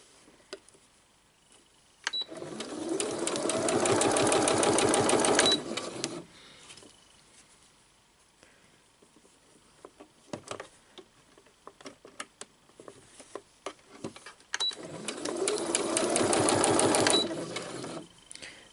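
Sewing machine stitching fabric strips for a quilt snippet roll, running in two steady rapid bursts of several seconds each, separated by a quieter pause with faint handling noise.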